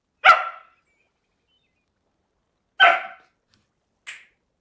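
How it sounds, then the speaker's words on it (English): A dog gives two sharp, loud barks about two and a half seconds apart, then a shorter, higher yip, each separated by silence. "Hey, no barking."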